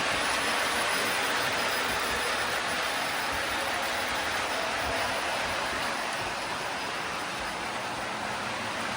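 A toy switcher locomotive runs on a model railway track, making a steady close whirring motor hum with a dense rattling clatter of wheels that holds at a constant loud level without speech.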